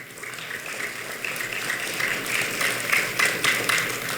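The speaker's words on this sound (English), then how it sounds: "Give a round of applause for him too." An audience applauds at a cricket education forum ceremony, a steady patter of many hands at moderate volume that swells slightly toward the end, with no voices over it.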